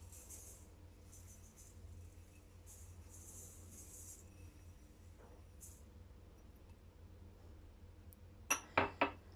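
A metal pot lid is set down over sugar-coated pumpkin pieces in a kitchen, three quick bright clanks at the very end after a long quiet stretch of low background hum and faint hiss.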